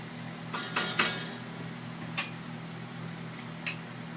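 Onions cooking in butter in a pot for homemade tomato soup give a soft, steady sizzle under a low kitchen hum, with a few close clinks of a utensil against the pan.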